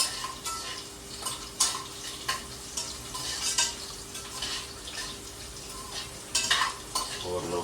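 Green chillies are sautéed in hot oil for a chicken gravy, giving a constant close sizzle with repeated scraping and clinking of a spoon against the pan in an uneven rhythm.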